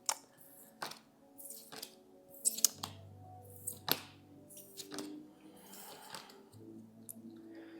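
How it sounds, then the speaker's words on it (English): Tarot cards being handled and put back, soft close clicks, snaps and light shuffling in a quiet room, coming in irregular bursts. "I'm gonna put all these cards back."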